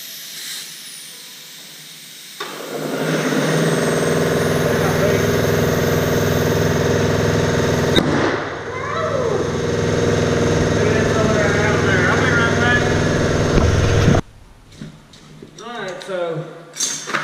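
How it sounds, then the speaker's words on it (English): A new Porter Cable air compressor runs continuously with a loud, steady motor drone and hiss for about twelve seconds, then cuts off abruptly, leaving a quieter background where a person talks briefly. "I like the little air compressor"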